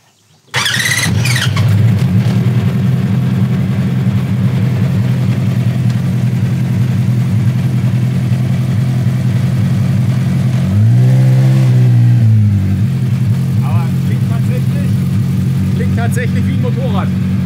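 A 250-horsepower buggy's engine starts abruptly and runs loud and steady, then revs up sharply partway through before settling back to a rough idle, close by.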